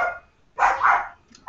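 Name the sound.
dog barking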